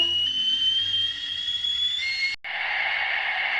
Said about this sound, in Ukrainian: Так, це звуки чайника.